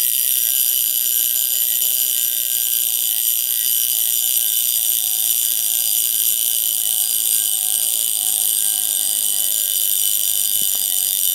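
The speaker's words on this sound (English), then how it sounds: "this is really the sound of an alarm on your wrist" A Breguet Marine titanium wristwatch's mechanical alarm rings in a loud, continuous high buzzing tone that holds steady for the whole stretch, close up with no talking.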